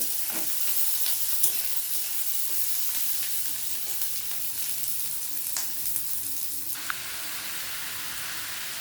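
Continuous sizzle of vegetable stems, potato, onion, jackfruit seeds and papaya frying with five-spice in a pan, with occasional scraping stirs of a spatula over the steady crackle.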